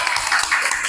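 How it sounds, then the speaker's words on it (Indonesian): A dense patter of clapping hands bursts out from a parish gathering in Purbowardayan, brief and fairly loud with no voices over it. "tepuk tangan dulu Romo Lili"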